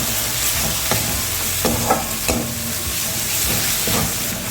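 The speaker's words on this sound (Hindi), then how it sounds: "मसाले को एक बार अच्छे से मिक्स कर लिए।" Spice masala with tomatoes sizzles in oil in a pan as it is stirred, steady frying hiss with several distinct scraping strokes, close and clear with no talking.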